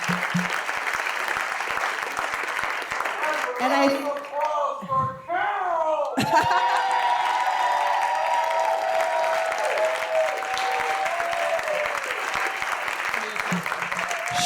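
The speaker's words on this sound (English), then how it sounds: "So give yourselves all a round of applause." Applause for a blue-ribbon contest event on a Tuesday night fills the opening seconds, then a voice speaks through a brief gap before the crowd settles into sustained murmur and clapping.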